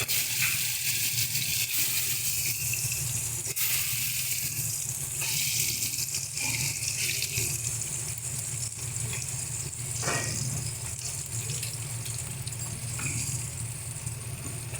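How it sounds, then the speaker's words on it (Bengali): Pointed gourds (potol) fry in hot oil, a steady, fairly loud broadband hiss that runs without a break from start to finish. "এবার এক এক করে পটলগুলো দিয়ে ভেজে নেব।"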